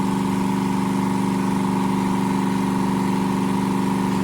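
A small 289 V8 engine running steadily at idle on its first start, a loud, continuous droning rumble with a constant tone and no voices over it.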